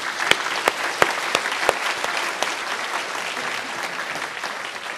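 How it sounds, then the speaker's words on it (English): A lecture audience applauds for a guest seated among them, a dense steady wash of clapping with a few sharp louder claps near the start, continuing evenly for several seconds without talk. "Please give a big round of applause."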